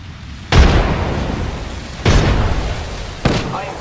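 A frag grenade detonates in a video game as three separate loud blasts, each a sharp bang followed by a long rumbling decay, spaced about a second and a half apart.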